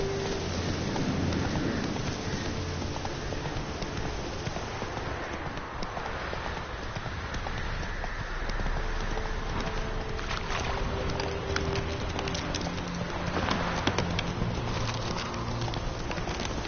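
Horse hooves gallop in steady clip-clop rhythm in The Witcher 3: Wild Hunt, loud and continuous across the whole stretch over a dense wash of game ambience, with no talk.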